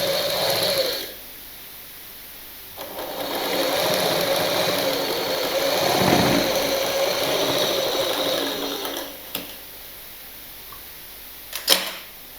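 Sewing machine stitching a blouse, a steady mechanical whir running in two long bursts with short pauses between, with faint clicks toward the end and no talk.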